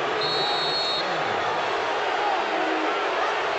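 A packed arena crowd at a 1997 Louisville at Kentucky college basketball game, a steady, dense roar of cheering that holds evenly throughout without pause.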